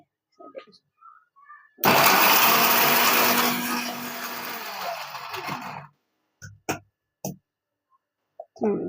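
A mixer grinder briefly pulsing garlic for a coarse grind: a loud motor whir starts abruptly, runs about four seconds and winds down, followed by a few clicks and short knocks of the jar.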